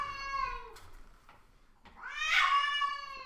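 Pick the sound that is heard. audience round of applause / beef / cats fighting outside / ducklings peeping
cats fighting outside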